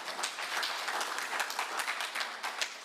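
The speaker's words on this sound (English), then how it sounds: "A round of applause to them." A conference audience at a prison and correctional service parole event gives a round of applause, many hands clapping in a dense, steady patter at moderate distance for the whole stretch, no talking heard.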